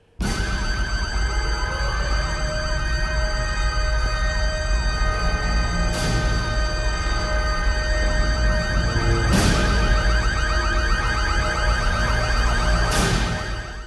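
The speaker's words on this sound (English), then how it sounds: "And then the sirens start." Continuous wailing sirens in a night scene from the film Phantoms, loud and sustained throughout, with a few sharp bursts punctuating the steady drone.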